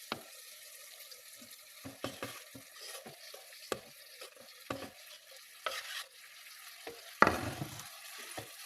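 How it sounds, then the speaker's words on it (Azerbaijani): Onions, carrots and meat fry in a pan for a sauce, with a soft steady sizzle broken by repeated scraping stirs and clinks of the utensil, close and fairly quiet. "beləcə soğanımız da burada qovrulub, kökümüzlə və üzərinə ətimizi əlavə edirik"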